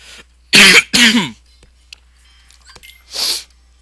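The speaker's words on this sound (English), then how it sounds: "That's the only fucking thing wrong with me, is I can't stop fucking coughing." A person coughs harshly several times, two loud back-to-back hacks followed by a pause and a third rougher cough, close and clear with no talking.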